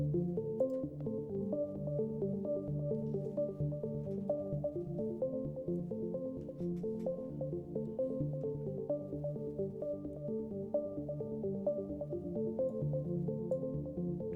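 Two soft sine-wave synth lines from a game soundtrack play a melody with a dotted eighth-note echo, pure tones smeared into a continuous repeating wash, quiet and steady with no voices.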